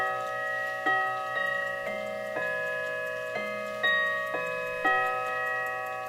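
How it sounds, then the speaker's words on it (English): A mechanical clock plays its Westminster quarter-hour chime, a series of clear, evenly spaced bell-like notes with ringing overtones. They sound close and moderately loud, with a faint steady ticking underneath. "This is playing the Westminster chimes."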